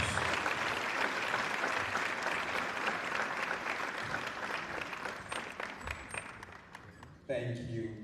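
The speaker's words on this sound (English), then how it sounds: "Let's give him a big applause." Sustained applause from a conference audience in Freetown welcoming the Chief Minister at a national dialogue on Sierra Leone's elections, steady crowd clapping that continues throughout and ends with a brief shift near the close.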